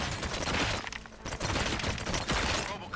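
Gunfire in the video game Robocop: Rogue City, dense bursts of rapid shots crackling in quick succession, loud and harsh with brief gaps between volleys.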